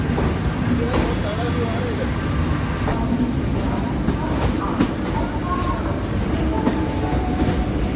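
An AC express passenger train runs on rails at night, a loud, steady rumble of wheels on track with occasional thin squeals and clicks, heard from inside the moving train.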